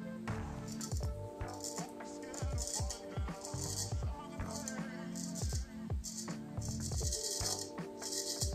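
Straight razor scraping facial hair on a pass with the grain, a close, rhythmic series of short raspy strokes repeating about once a second over steady background noise.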